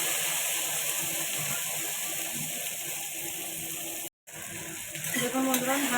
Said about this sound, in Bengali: দেখুন বন্ধুরা, ঢেঁড়সটা ভাজা হয়ে গেছে।